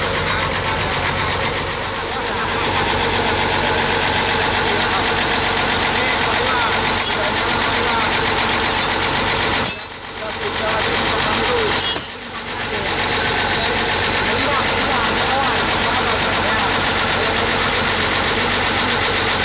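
A truck engine, rebuilt with new pistons, idles steadily with a constant rough rumble and knocking texture, two brief dips in the noise midway through.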